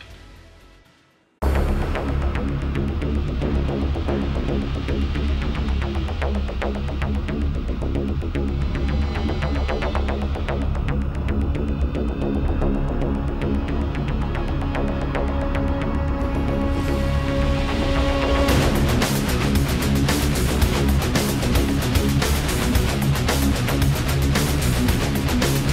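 An SGI Indigo2 R10000 MAX IMPACT workstation at 195MHz hums steadily while rendering in Blender, with a low constant drone that grows louder and fuller partway through.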